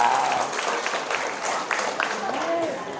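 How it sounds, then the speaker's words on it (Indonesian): A crowd claps and applauds continuously at an Isra Mi'raj commemoration in a mosque, dense and fairly loud, with a voice faintly audible underneath. "Tepuk tangan dulu untuk orang ini semua Bu"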